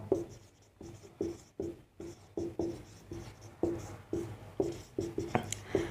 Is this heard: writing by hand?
yes